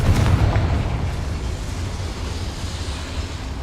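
A Confringo fire spell detonates in the Hogwarts Legacy video game, a deep booming explosion at the start that rolls off into a low rumbling tail, with no talking.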